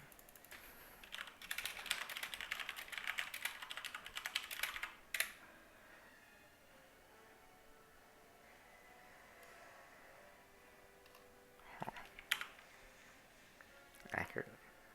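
Quick keystrokes rattle on a computer keyboard in a dense burst of several seconds, then quiet, then two short clusters of clicks later on. The typing is close and fairly soft, with speech heard in the clip.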